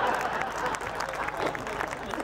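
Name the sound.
audience clapping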